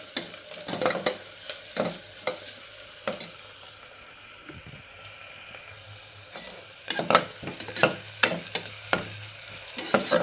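Crushed ginger and garlic fry in a pan for dal palak, giving a soft continuous sizzle punctuated by bursts of clattering spoon strokes against the pan, close and without talk.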